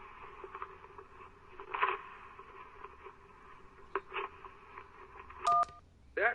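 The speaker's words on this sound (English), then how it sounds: "That was someone tearing up an electric bill." In the video game Kentucky Route Zero, an electric bill is torn up: a hazy steady hum broken by a few distinct ripping bursts, followed by a short loud touch-tone beep and another quick rip.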